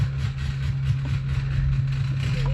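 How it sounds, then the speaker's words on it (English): A steady low engine hum and drone from a flight simulator, transmitted through a vibrating haptic seat, continuous and fairly loud with a faint rattle on top. "it's making the engine turning noise, cranking noise"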